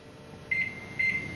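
Two short electronic beeps from a microwave timer, evenly spaced about half a second apart, over a faint background hum.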